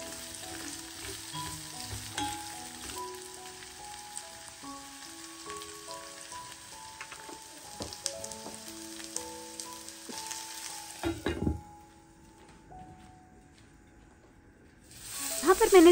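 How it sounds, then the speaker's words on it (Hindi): Potatoes and onions fry in a pan for a home meal, with a continuous soft sizzle and occasional stirring under background music, followed by a sudden quiet and a louder burst of sizzle at the end. "तो बस सारी चीज़ों को भूनेंगे हम अच्छे से"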